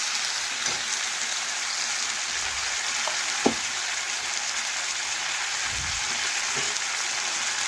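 Cashew and poppy seed paste frying with spices in a pan for a vegetarian potol (pointed gourd) dish, giving a steady soft sizzle with a few faint clicks of stirring, no talk.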